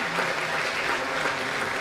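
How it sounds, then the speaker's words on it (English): Applause from an audience at an academic lecture, a dense, steady wash of many hands clapping that runs evenly throughout without talk. "I thought that should have received some applause."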